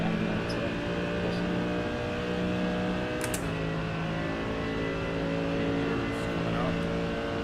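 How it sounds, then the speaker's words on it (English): Engines of LMP2 prototype race cars in the iRacing simulator at Road Atlanta hum steadily with layered, sustained tones as the cars approach, a continuous loud drone with a brief swell midway. "Here come the LMP2 runners."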